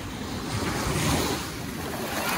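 Sea waves rush onto a sandy beach in Ilocos with a steady roaring wash, buffeted by wind noise on the microphone, and no voices.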